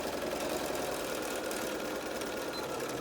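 A sewing machine runs steadily, stitching the lining seam of a fitted fabric mask at a 3/8 seam allowance. The motor hum is continuous and fairly loud, and no one speaks over it.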